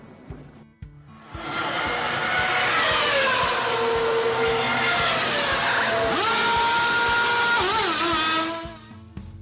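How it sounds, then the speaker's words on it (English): A race car pulls away from the pit lane after tires are changed, its engine rising from a rough idle into a loud, sustained whine that climbs and shifts pitch before fading near the end. "A crewman polishes the windshield as Holland moves away just 67 seconds after he stops."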